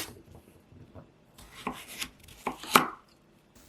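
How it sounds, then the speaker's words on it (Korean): A few irregular knife chops through carrots against a cutting board, close by, with soft rubbing and scraping between the sharper cuts. "당근도 대강 크게 잘라주세요."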